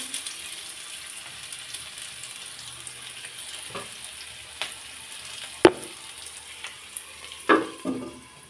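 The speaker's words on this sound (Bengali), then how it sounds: "আমি এভাবে ভাজি করে নেব কিন্তু মাঝে মাঝে আমার ঢাকনাটা খুলে নাড়াচাড়া করে নিতে হবে" Bitter gourd and potato slices fry in a covered pan with a steady soft sizzle, with occasional clinks and scrapes as the lid is lifted and the pieces are stirred; no voices.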